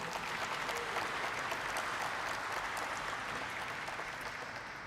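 An audience at a company stock listing ceremony in India claps steadily for five seconds, a dense, even wash of applause that fades slightly toward the end.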